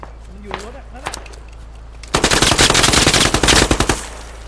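Rapid machine-gun bursts hit a vehicle in the military shooter game Squad. The loud sustained fire follows a few quieter single shots and fades as the burst ends.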